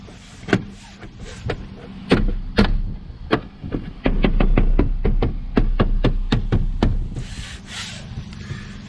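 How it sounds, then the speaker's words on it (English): Plastic trim piece being pressed and snapped into place inside a 2019 BMW X3 G01 during a rear dash cam install: close, sharp clicks and knocks, then a quick run of rapid taps and snaps over a low rumble. "The only thing that's left is putting this piece of trim on."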